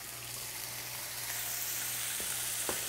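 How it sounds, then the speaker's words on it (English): A brined pork chop sears in a hot pan on the stove, giving a steady, close, crackling sizzle throughout, with a few faint clicks and no talking. "Now we're going to put this in our pan and we're going to sear it."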